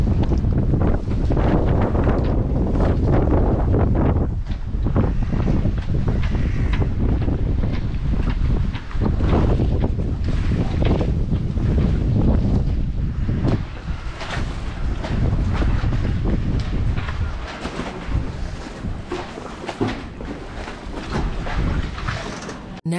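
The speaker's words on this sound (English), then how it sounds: "You can also hear the ropes hitting the masts of the sailboats around us because there's so much wind." Strong wind roars across an anchorage where ropes slap against the masts of nearby sailboats, a constant loud gusting broken by many sharp knocks and clatters.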